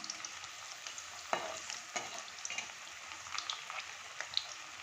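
Homemade cauliflower pakora fries in oil over a gas flame, a faint continuous sizzle with a couple of soft scraping stirs of a utensil in the pan.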